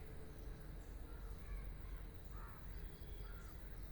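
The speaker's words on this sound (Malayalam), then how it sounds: "ഈ കിളികളുടെ കരച്ചിൽ കേൾക്കുന്നത് തന്നെ" Crows caw now and then in an outdoor natural setting, faint and distant over a steady low background hum, a few separate calls spread across the moment without any voices.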